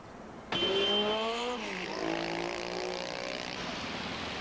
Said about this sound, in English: much of Athens is a maze of traffic, one-way streets, exhaust fumes, and honking horns